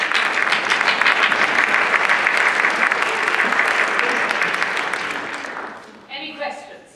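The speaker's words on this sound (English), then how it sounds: "Applaud!" Audience applause at an amateur drama performance, a loud, sustained burst of clapping that tapers off after about five seconds before voices resume.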